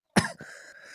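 A single sharp, close cough bursts out, followed by a brief throat-clearing rasp and a faint breathy tail in an otherwise quiet indoor room.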